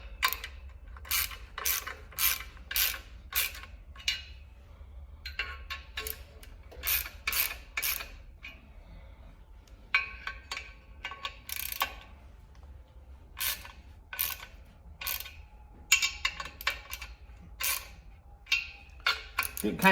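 A wrench tightens clutch bolts on a 1972 Chevelle engine, giving bursts of quick ratcheting clicks in short runs with brief pauses between them. The sound is close and fairly loud.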